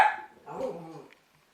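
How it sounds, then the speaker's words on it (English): A dog barks a few times nearby, a sharp bark followed by a rougher, lower bark, then quiet; the dog is at a place where someone is filling a fuel tank in Scotland. "Don't know why that dog's doing that."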